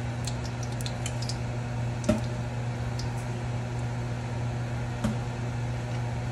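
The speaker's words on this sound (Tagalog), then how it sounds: "Medyo maingay, sinindihan ko yung exhaust fan." A kitchen exhaust fan running during cooking, a steady droning hum with a constant low tone, joined by a couple of faint clicks and clinks of utensils, no voices.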